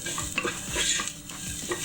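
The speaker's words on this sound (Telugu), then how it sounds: "ఇప్పుడు కొద్దిగా పసుపు, సాల్ట్, చాట్ మసాలా, గరం మసాలా ఇవి కూడా వేసుకుని మనం కలిపేసుకుందాం." Onion samosa filling seasoned with turmeric, salt, chaat masala and garam masala being stirred in a pan: brisk scraping spoon strokes over a soft sizzle, close and continuous, no talk.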